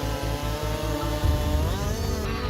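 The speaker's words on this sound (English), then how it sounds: "The ancient forest now echoes with the sound of chainsaws." A chainsaw cutting trees in a forest revs in close, loud rhythmic pulses, then drops into a rougher cutting growl as it bites into the wood.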